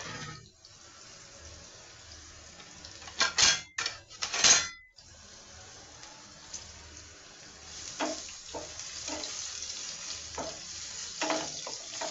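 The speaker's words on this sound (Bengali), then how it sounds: "ফ্রাই প্যানটা আমি নতুন কিনেছি আজকে উদ্বোধন করলাম আলু ভাজি করব বলে" Sliced potatoes with green chillies sizzle and crackle in a brand-new frying pan, a steady frying hiss with louder bursts of stirring and scraping partway through.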